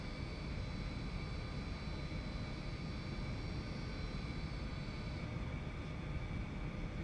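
An Eclipse light jet flies in a steady descent with its first stage of flaps extended, giving a constant, even roar of engine and airflow from inside the cockpit, with no voices.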